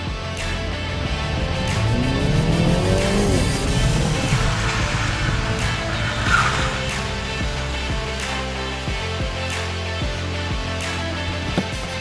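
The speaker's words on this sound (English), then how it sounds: "I'm going to speed up towards a set of cones and try and brake and turn at the same time" A Mini braking hard and turning with ABS toward a set of cones, its engine drone swelling and then sliding down in pitch, with faint rapid ticks as the car slows, heard from close by without talk.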